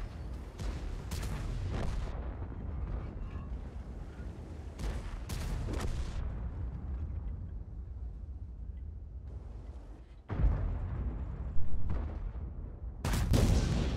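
Repeated heavy tank gun booms in the video game World of Tanks, several sharp blasts spaced irregularly with rumbling low end and a louder cluster near the end.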